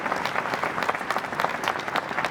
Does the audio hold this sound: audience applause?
yes